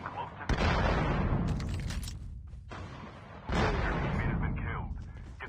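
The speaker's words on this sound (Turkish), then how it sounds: "Tank sıkıyor." Tank cannon fire in the mobile shooter Call of Duty Mobile: two heavy, booming blasts about three seconds apart, each followed by a long rolling rumble, with dense battle noise filling the gaps.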